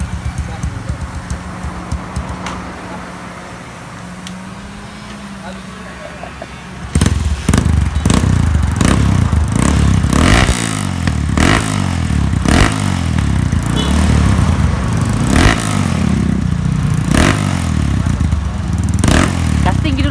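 A Yamaha Scorpio motorcycle with a loud, modified open exhaust idles with a low rumble and then breaks into repeated hard, blaring revs that stay loud and close, while someone talks over the noise.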